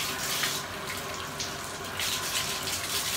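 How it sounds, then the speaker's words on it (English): A tap runs steadily into a bathtub being filled for a child's bath, a continuous splashing hiss at moderate level with slight surges, heard alone without talk. "go ahead and get her water together. She's going to take a bath."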